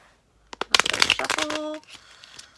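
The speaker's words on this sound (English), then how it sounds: "y'all can just watch my horrible shuffling skills" A deck of playing cards is shuffled close by, with a few quick flicks and then a dense burst of riffling cards over about a second before it settles.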